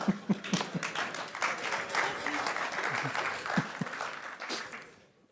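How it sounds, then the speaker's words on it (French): An audience at a talk bursts into applause, scattered sharp claps building into steady clapping mixed with some laughter and voices, then tapering off to quiet. "Je sais pas pourquoi vous rigolez, vous applaudissez."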